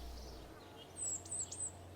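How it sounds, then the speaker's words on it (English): Birds chirping in a Kerbal Space Program video, a few high, thin tweets clustered together over a quiet low background hum, faint and brief. "leave you with some birds and a little bit of music"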